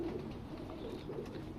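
A breeding pigeon held in the hand coos softly in low, rolling repeated calls, fairly faint and close, with no talk over it.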